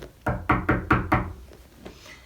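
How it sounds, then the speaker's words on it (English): Knock at the door: five sharp, evenly spaced raps close by, followed by a fainter sixth tap and quiet after. "he heard a knock at the door"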